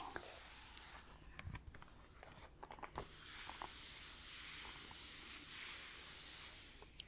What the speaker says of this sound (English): within page noises, there is, of course, page rubbing.